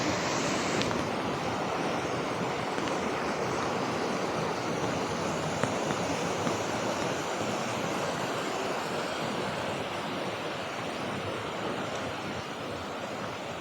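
Rushing water at Ditumabo Mother Falls in San Luis, Aurora: a steady, powerful roar of falling water, unbroken and close, with no talking.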